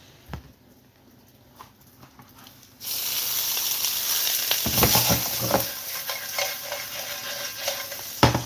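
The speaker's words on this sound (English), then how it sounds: "Frying up the most golden veggie dumplings you've ever seen in your life." After a quiet start with a few clinks, veggie dumplings hit a hot pan and sizzle loudly and continuously, with occasional utensil scrapes and taps.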